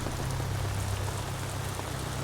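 Heavy rain falls in the Southern Alps mountains as a dense, loud, unbroken hiss over a low steady rumble, with no voices.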